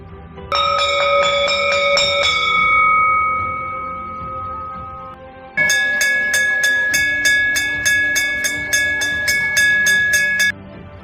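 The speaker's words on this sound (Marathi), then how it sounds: "तुमच्या शाळेतील घंटा वाजवली तर घुमणारा आवाज निर्माण होतो" A metal school bell rings loudly in two bursts: first a few struck tones that hum and fade, then a fast, steady run of bright clangs.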